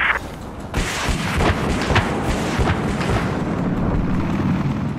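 Dense Battlefield 4 gunfire, heavy booming shots and rattling bursts from close range, sustained loud over a rumbling battlefield background without pauses.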